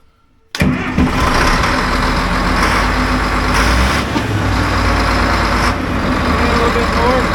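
A Cat D7F bulldozer's diesel engine catches abruptly after silence and settles into a loud, close, rough idle with a slightly high low-idle speed, holding steady with small surges throughout.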